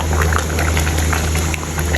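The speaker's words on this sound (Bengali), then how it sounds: "আমরা খিচুড়িটাকে এখন ঢাকা দিলাম, বলক আসুক।" Khichuri bubbling in a covered pot, a steady, dense simmering hiss with faint popping bubbles, close and fairly loud without pause.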